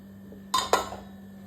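A lid is set on a cooking pot of brinjal tamarind kuzhambu, giving two quick close metallic clinks about a fifth of a second apart, then quiet.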